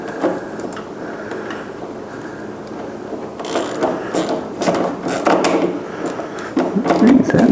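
Ratchet undoing a 3/8 bolt on the firewall of a 1970 El Camino, quiet shuffling followed by bursts of close, rapid clicking that grow louder toward the end.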